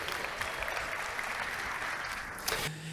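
An audience claps and applauds at a convention presentation, a dense, steady wash of hands that carries through and stops abruptly near the end.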